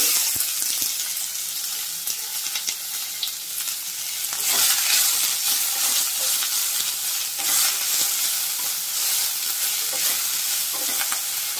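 Garlic and onions roast in a spoonful of oil for a Malvani clam masala, giving a continuous frying sizzle with scraping stirring strokes that swell and ease throughout.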